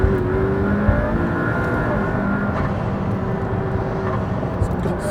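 A McLaren P1 engine accelerates steadily as throttle is fed in, a loud, sustained rising drone heard from inside the car with someone talking over it.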